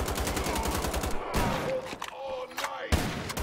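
Gunfire from Wolfenstein: The Old Blood, first a rapid burst of about ten shots, then a few separate single shots spaced apart, loud and close with game noise between.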